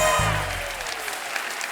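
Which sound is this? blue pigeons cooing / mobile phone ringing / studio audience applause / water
studio audience applause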